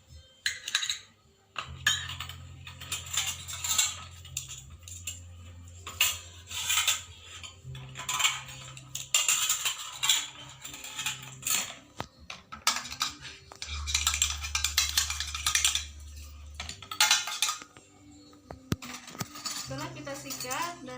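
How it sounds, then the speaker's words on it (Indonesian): Metal instruments are scrubbed with a toothbrush in soapy water during a disinfection and sterilization practical, giving bursts of bristly scraping and clinking metal, with a low steady hum beneath and pauses between strokes. "dan kita sikat-sikat alat logam ini supaya bersih."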